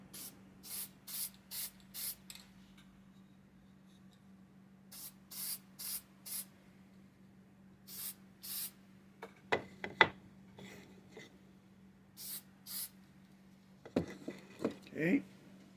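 A can of black spray paint hisses in a series of short bursts separated by pauses, followed by some rattling and handling clatter near the end.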